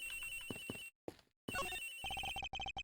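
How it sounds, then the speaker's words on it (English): Electronic telephone ringtone from the Ace Attorney Investigations video game chirps in repeated bursts, broken by a brief gap, then resumes as rapid pulsing rings, close and clear with no talk over it. "The ringing's coming from somewhere in here, sir."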